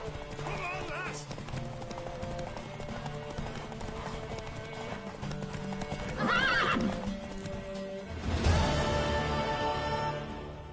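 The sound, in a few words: horse galloping and neighing, video game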